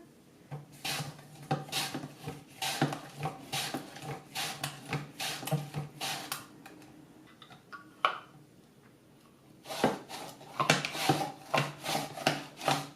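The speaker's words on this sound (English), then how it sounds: "Now I'll try slicing a tomato." A tomato is sliced on a Swissmar Borner V-slicer mandoline, giving a steady run of rubbing, rasping strokes with a brief pause before the strokes resume, close and moderately loud.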